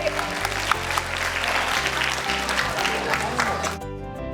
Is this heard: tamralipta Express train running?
no